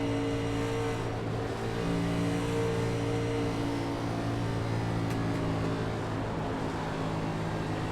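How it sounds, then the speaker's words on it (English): A race car engine at Talladega drones steadily as the throttle eases off during an exhibition race, a sustained mechanical hum without sharp revving. "You can hear the engine as it lets off the gas."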